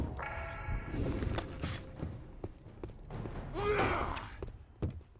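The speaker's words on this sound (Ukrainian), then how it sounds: "я двері б'ю" Several dull thumps and knocks of a door being struck in the video game Dark Messiah, irregular and fairly close, with game sound effects in between.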